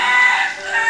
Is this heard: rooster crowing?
yes